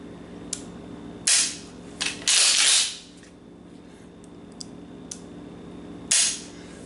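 Metallic clacks and slides of a Remington 870 pump shotgun being racked, close and loud, with a couple of quick sharp action strokes separated by quieter clicks and handling noises.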